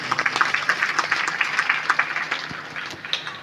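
A crowd at a gathering applauds together, a dense patter of many hands clapping at moderate distance, steady for a few seconds before thinning out.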